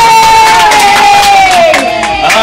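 Studio crowd cheering and clapping for a radio listener-of-the-day prize winner, a loud continuous roar of applause with a high voice whooping over it throughout.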